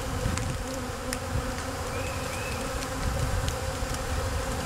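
Irritated honeybees buzz around their hive after a vertical split, a dense, steady swarm hum close by with occasional individual bees passing.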